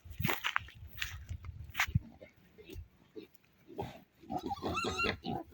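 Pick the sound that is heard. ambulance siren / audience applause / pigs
pigs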